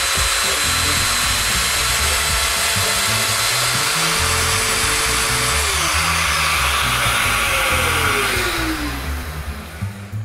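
Domino joiner cutting mortises for the legs of a wooden nine-drawer dresser, a loud, steady motor whine with pitch shifts as the cutter plunges, then winding down near the end.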